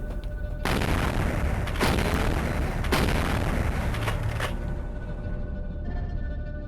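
Shotgun blasts in the video game Vampire: The Masquerade – Bloodlines, several sharp loud booms spaced about a second apart over a dense, rumbling din, then the noise thins out at the end.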